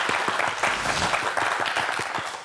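A short burst of applause in a Korean TV science quiz show studio, several people clapping briskly and fairly close, with individual claps distinct in the dense rhythm.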